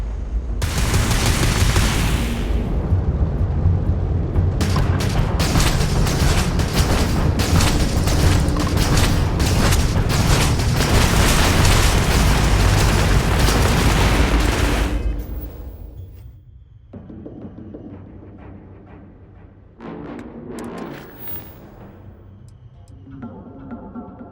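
Spaceship weapons and explosions in the Starfield space-combat game: a long, loud, dense roar of rapid fire and blasts that cuts off sharply, then gives way to quieter scattered mechanical clanks and bursts.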